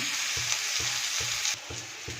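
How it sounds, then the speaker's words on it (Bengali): Onions frying in a pan for potato dum hiss steadily, while a spatula scrapes in a regular rhythm of about six evenly spaced strokes. The sizzle drops slightly in loudness partway through. "পেঁয়াজগুলোকে ভেজে নিই"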